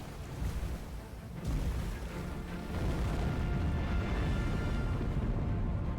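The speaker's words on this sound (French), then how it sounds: "Ah oui, c'est l'explosion" A loud explosion in the video game Tomb Raider Anniversary, heard as a sustained low rumbling roar that swells and stays heavy and dense to the end, with no voices over it.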